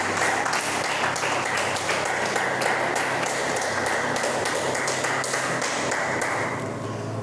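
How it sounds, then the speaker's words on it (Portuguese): A church congregation applauds during a sermon, a dense, loud wash of many hands clapping steadily for several seconds before easing slightly at the end. "Pode aplaudir o Senhor por isso?"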